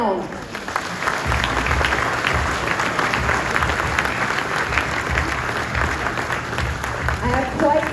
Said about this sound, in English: a warm round of applause for Ben Davis's Nyland Brown